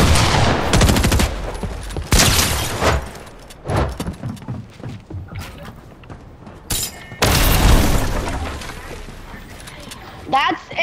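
SMG gunfire in a video game with a twin magazine, loud bursts of rapid shots in several clusters, with players talking over the shooting.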